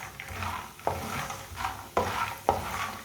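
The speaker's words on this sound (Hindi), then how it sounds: "फुल मखानों को चम्मच चलाते हुए पकाना है, ऐसे नहीं भूनना।" A spoon scrapes and stirs fox nuts (makhana) roasting in a pan, giving a few distinct, close scraping strokes over a faint, low sizzle.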